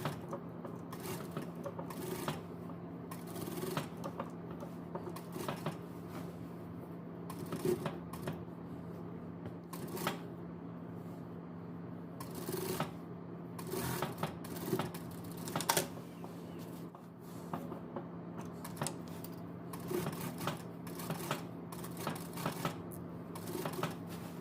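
A sewing machine stitches around the neckline of a dress, a steady low hum broken by repeated clattering bursts and handling noises, moderately quiet and close, with no talk.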